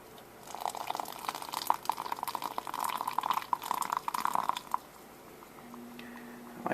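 Water being poured onto ground coffee in an AeroPress, a steady close trickle for several seconds that then thins out, with no talk over it.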